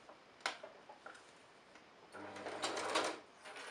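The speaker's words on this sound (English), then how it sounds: "now we're just gonna sew all around" A sewing machine stitches around the edge of a fabric zipper pouch, starting with a few isolated clicks and taps, then running into a fast, steady rhythmic hum and patter of needle strokes up close.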